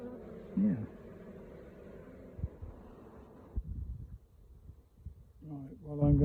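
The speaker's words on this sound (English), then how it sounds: "get the rest of these bees into this brood box" Honeybees buzz around an open hive during a varroa shook swarm into a brood box, a faint steady hum under handling thumps and rustles, with a voice briefly speaking at the end.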